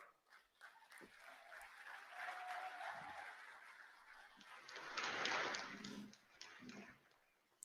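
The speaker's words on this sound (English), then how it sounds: "Like 4 people clapping." Sparse applause from just a handful of people, a thin, scattered patter of claps that swells briefly and fades, faint and distant in a quiet room.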